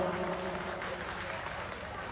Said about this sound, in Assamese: আপোনালোকে হাত চাপৰি দিব।